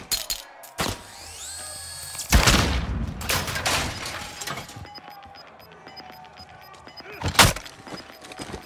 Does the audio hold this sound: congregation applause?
no